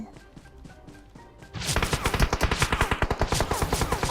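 Rapid automatic gunfire from PUBG Mobile bursts in loud and sustained after a quieter opening stretch, a dense run of sharp repeated shots close by.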